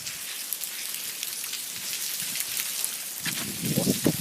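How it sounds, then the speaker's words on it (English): Monsoon rain pours outdoors in India, a steady dense hiss of drops on surfaces, close and even, with a faint voice murmuring near the end. "what it looks like in the middle of a monsoon season and standing outside in rain"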